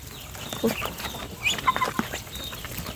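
Chickens and ducks feeding outdoors give scattered soft clucks and short calls, close by and brief, with a voice speaking intermittently among them.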